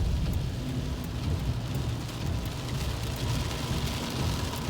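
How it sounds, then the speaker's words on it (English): Heavy rain pounds a moving vehicle during a rainstorm, a dense, constant hiss and patter with a low rumble of road noise underneath, loud and unbroken throughout. "Like, there's so much water right now."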